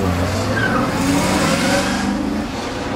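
A Yenko car engine revs and accelerates away, loud and steady throughout, with a rising growl as the vehicle pulls off nearby.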